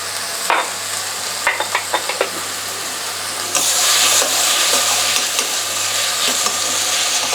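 Oil sizzles loudly in a home cooking pan as salt and black pepper go in, with a few sharp stirring clicks, then a steady, brighter frying hiss that swells and holds close to the listener.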